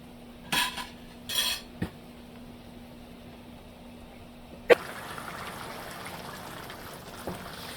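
Whole cinnamon, cloves, peppercorns and cardamom are stirred in a pot on the stove, with a few sharp metal spoon clinks and scrapes against the pot over a faint steady hiss.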